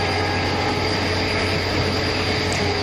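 A locomotive in the MSTS train simulator, running the 12614 Tippu SF Express from Bangalore to Mysore, gives off a loud, steady engine drone and rumble. It holds unbroken throughout with no distinct chugs and no voices.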